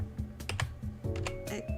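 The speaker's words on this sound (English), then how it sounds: "Sorry for the loud typing." Keys on a computer keyboard are struck hard and fast in uneven bursts, close and fairly loud, with no voices.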